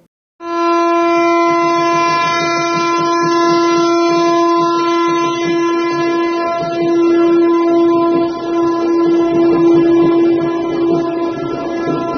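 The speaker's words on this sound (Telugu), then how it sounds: "24 రాష్ట్రాలు, కేంద్రపాలిత ప్రాంతాల్లో నిత్యం 120 ట్రిప్లతో వందే భారత్ రైళ్లు ప్రయాణికులకు సేవలందిస్తున్నాయని రైల్వే మంత్రిత్వ శాఖ తెలియజేసింది" A Vande Bharat train sounds a long, loud, steady horn blast close by. The sustained tone lasts almost the whole stretch over the rumble of the moving train.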